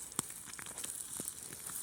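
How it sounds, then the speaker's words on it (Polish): Scrambled eggs fry in a pan outdoors in a forest, giving a faint, steady sizzle with scattered small crackles and pops and no voices. "Smażę sobie jajecznicę w lesie."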